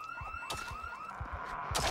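Loud, close supermarket alarm in Project Zomboid, cycling through rapid repeated whooping tones without pause, with a few sharp thuds mixed in.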